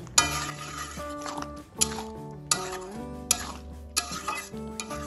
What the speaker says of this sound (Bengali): ধনেপাতা কুচিটাও মিশিয়ে নিলাম